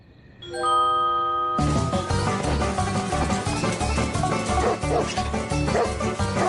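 A cartoon dog barks repeatedly over loud music, following a short rising chime, the yips steady and up front in the mix.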